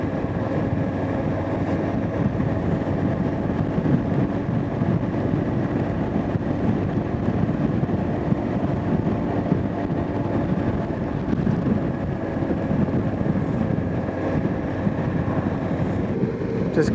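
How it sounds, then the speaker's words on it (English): Strong offshore wind roars in a dense, continuous rush across a helmet while a Honda Africa Twin motorcycle rides the Great Ocean Road, steady and loud for the whole stretch with no talk. "it's a bit windy out there."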